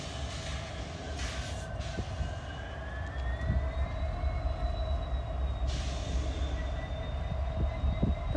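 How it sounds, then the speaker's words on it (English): A freight train rolls past at a rail junction with a steady heavy rumble and rattling wheels, while long squealing tones drift over the clatter throughout. "First train of the day."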